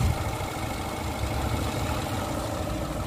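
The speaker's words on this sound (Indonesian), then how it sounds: "untuk suara mesin" A 1993 Suzuki Katana GX engine idles in a steady, even rumble throughout, close and continuous with no talking.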